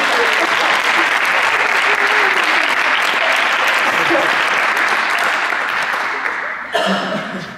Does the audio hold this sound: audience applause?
yes